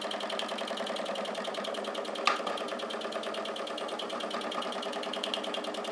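A small model steam engine runs steadily and slowly with a fast, even mechanical chatter and a faint click partway through, no voices.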